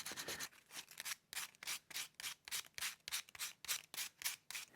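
Rhythmic scratchy strokes of sandpaper rub back and forth over a clay character sculpture, close and steady, about a dozen passes in an even repeating pattern.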